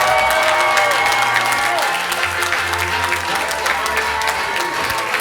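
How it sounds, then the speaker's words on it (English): Audience applauds a comedian taking the stage at a stand-up comedy bootcamp show, dense steady clapping with scattered cheers that carries on at a constant level throughout. "Big round of applause for Phil Goll."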